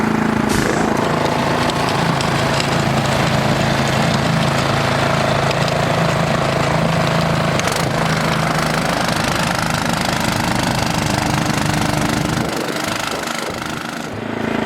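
The engine of a Toro Power Max snow blower running in sixth gear gives a loud, steady, close mechanical drone and rattle, with no speech, and eases slightly near the end.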